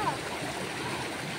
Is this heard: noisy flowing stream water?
yes